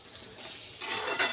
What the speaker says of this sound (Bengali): তো এটা দিয়ে ভালো করে মিলিয়ে নেব।